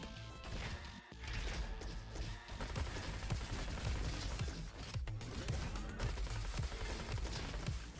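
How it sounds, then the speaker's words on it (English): Assault SMG fire in the robot shooter Roboquest comes as dense, rapid bursts of crackling shots mixed with impact crashes and game effects, continuous and busy throughout. "And we get an assault SMG"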